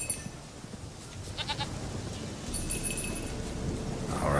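A goat bleats in The Witcher 3, short faint calls over a rumbling, rain-like outdoor ambience, with no talking.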